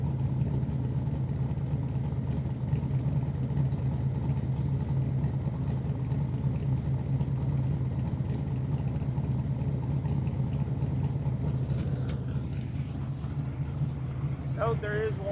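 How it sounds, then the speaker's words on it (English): A 1970 Chevy Camaro small-block 350 V8 with dual exhaust idles steadily with a deep, constant low rumble throughout, close by, with a faint higher sound near the end. "I love the sound of this exhaust."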